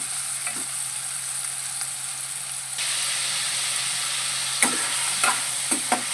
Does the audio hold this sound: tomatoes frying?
yes